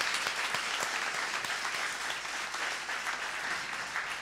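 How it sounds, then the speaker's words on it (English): Audience applause at the Nehru Centre launch of a bhajan album, a dense, steady clapping from a full room that carries on without a break throughout. "I think everyone should be giving him a huge round of applause for this."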